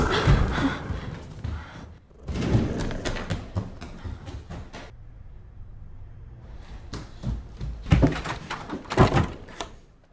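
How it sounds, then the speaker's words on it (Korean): A door is opened at night in a horror film, giving a few creaking, knocking bursts separated by a stretch of near silence, fairly close and fairly loud. "이번에도 타일러가 문을 열어보는데"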